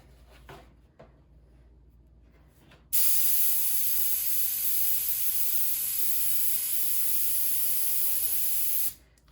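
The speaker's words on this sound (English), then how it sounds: "Let's spray it on something else." A spray gun sprays stipple texture paint in one loud, continuous hiss lasting about six seconds, starting abruptly after quiet and cutting off just as sharply.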